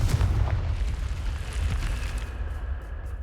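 A Confringo spell explosion in the Hogwarts Legacy video game: a loud rumbling blast with crackling debris that fades over a few seconds.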